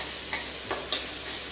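A small onion frying in oil in a pan, a soft continuous sizzle with a few light stirring scrapes and taps of a spoon.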